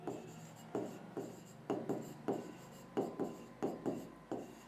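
Chalk or marker taps and scratches out short strokes on a board, about a dozen quick bursts in an uneven rhythm, fairly faint and close, during a Hindi-language biology lesson.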